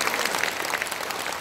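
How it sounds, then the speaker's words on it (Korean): An audience at a lecture hall talk in Korea gives a brief burst of moderately loud applause, a dense patter of claps heard from a distance. "다시 한번 박수 주시죠"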